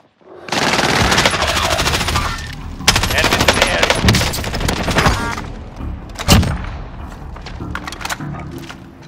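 Dense automatic gunfire rattles in a video game firefight, long bursts of rapid shots with occasional heavy thumps and a loud crack near the end, fading toward quiet at the close.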